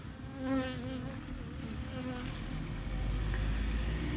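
A honeybee colony buzzing inside a hive during an oxalic acid treatment, a close, continuous droning hum with a few individual bees whining past near the start.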